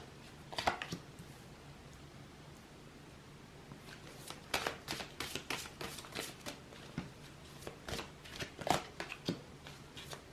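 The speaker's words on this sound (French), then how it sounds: "Alors, je vais procéder silencieusement au tirage." Tarot cards shuffled by hand before a reading, giving quiet close riffles and flicks that come in scattered bursts, busier in the second half, over a faint room hush with no talking.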